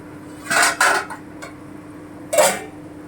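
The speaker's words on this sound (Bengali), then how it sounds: "আবার একটু ঢাকনাটা তুলে দেখে নিই" A metal lid is lifted off a cooking pot of kofta curry, giving a few close clanks and scrapes in two quick bursts, then another clatter a moment later.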